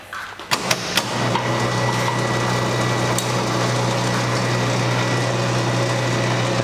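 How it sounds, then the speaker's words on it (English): A winch on a wrecked 2021 Polaris RZR 1000 whirs steadily after a few sharp knocks. It runs as a close, even motor drone to the end with no pauses. "Let's see how long this winch is."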